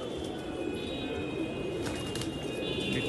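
Pigeons cooing on a rooftop, soft low murmuring coos amid light chirps and outdoor background noise, with someone talking intermittently nearby.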